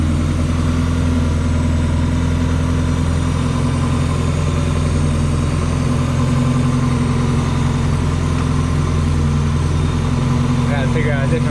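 A Mazda Miata NA with a freshly replaced cylinder head idles close by, a loud, steady, even engine hum that holds without revving. A voice talks over it.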